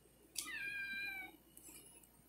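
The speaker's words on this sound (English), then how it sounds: "My cat Umbreon just decided to hop in my lap and say hi." A pet cat meows once near the microphone, a rising then falling drawn-out call, followed by a softer, shorter chirp-like sound over a quiet room hum.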